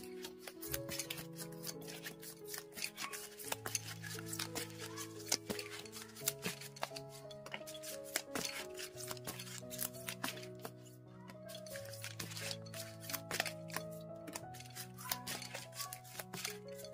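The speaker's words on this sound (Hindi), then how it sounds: "तो शुरुआत करते हैं कार्ड शफल करके" A tarot deck being shuffled by hand, a dense run of quick, soft card riffles and taps, up close and fairly quiet, layered over calm background music.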